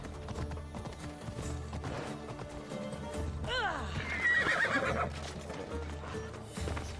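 A horse whinnies loudly mid-clip in the video game Assassin's Creed Odyssey, preceded by hoofbeats and set over steady background music.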